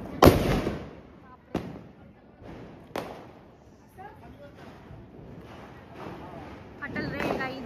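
Big firecracker bursting during Diwali celebrations: one sharp loud bang at the start, then two more lighter cracks, with voices talking and calling out amid wind noise.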